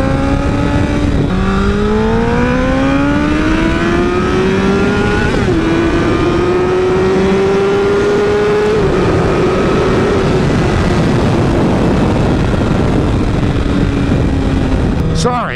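A sport motorcycle ridden hard on an open road, the engine loud and close, rising in pitch through the gears with brief dips at each shift and steady wind rush throughout.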